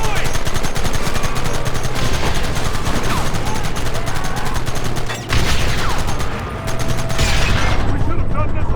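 Sustained rapid gunfire from Red Dead Redemption Remastered, rattling bursts of rifle and machine gun shots firing loud and close almost without pause, with brief dips near the end.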